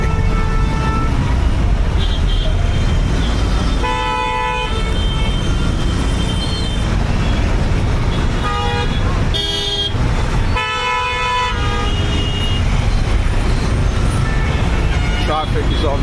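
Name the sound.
heavy traffic with honking cars in India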